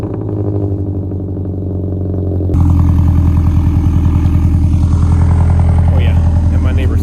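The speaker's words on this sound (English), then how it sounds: "I still really love how loud this car is, how good it sounds" Scion FR-S sports car engine idling loudly in a garage, with a steady deep rumble that steps up louder and harsher about two and a half seconds in and holds there.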